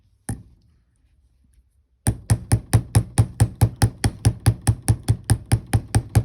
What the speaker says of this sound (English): my rubber hammer